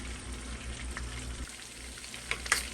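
A halibut fillet frying in a pan gives off a steady, close sizzle, with a few sharper pops near the end and no voices.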